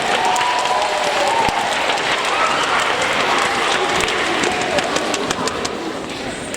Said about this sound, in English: Round of applause for the yellow team